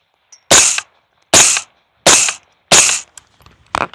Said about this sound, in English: I'm standing here at 25 yards. I'm going to do a couple headshots